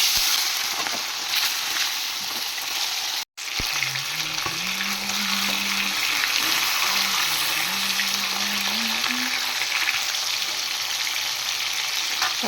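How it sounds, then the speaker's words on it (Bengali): Fish frying in hot oil in a kadai, a continuous soft sizzle and crackle throughout, with a brief dropout early and a low background hum. "এবার আমি একটা কড়াই বসিয়ে দিয়েছি, এখানে আমি মাছ ভেজে নেব।"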